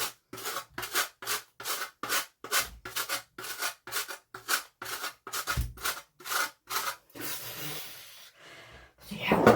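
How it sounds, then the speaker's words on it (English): Hand grating during a cake decorating class for a mince pie slice, a rhythmic series of about fifteen close rasping strokes, evenly paced, followed by softer rustling; a voice speaks briefly. "I'm not very quick at grating, am I?"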